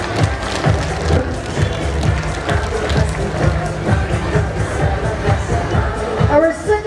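Crowd applause for the first judge at a street dancing event, a loud, continuous patter of many hands that holds steady throughout, mixed with general crowd noise and some talking.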